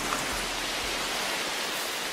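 Rain falling steadily on rainforest foliage, a dense even hiss of water filling the scene, with no voices.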